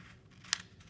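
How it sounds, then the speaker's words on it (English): Scissors make a single quick snip through origami paper, a short crisp cut that stands out from an otherwise quiet, close setting with no talking. "I'm going to take my scissors again, and I'm going to make a cut on this seam right here"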